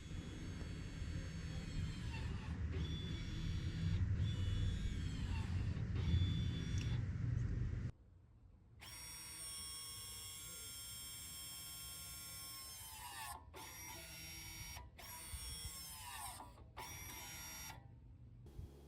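Electric parking brake motors on a VW Tiguan whir as they retract into service mode, a steady mechanical drone that cuts out, then resumes as a higher-pitched whine broken by several brief pauses.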